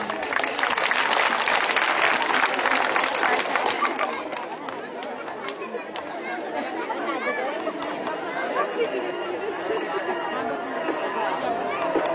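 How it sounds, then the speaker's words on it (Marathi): Audience applause at a fusion dance performance at a cultural event in Saphale, loud sustained clapping that gradually thins out, with crowd chatter and voices mixed underneath. "टाळ्या।"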